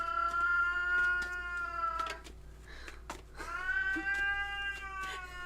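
A cat meows loudly and insistently indoors, with two long drawn-out yowls separated by a brief pause, close to the listener and heard on its own with no talking.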